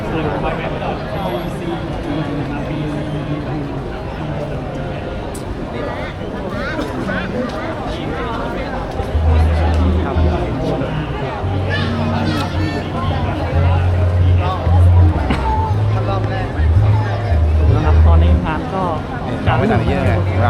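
A large dense crowd mills around with a constant babble of many voices, a rumble of engines underneath, and someone speaking nearby over the noise throughout.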